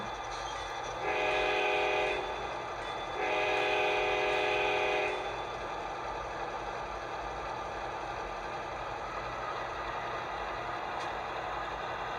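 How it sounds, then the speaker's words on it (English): Two sustained locomotive horn blasts from a Nathan K5 horn, each about one to two seconds, sound over a steady low rumble, followed by continuous mechanical background with no further signals. "This is standard GE bell and Nathan K5 horn."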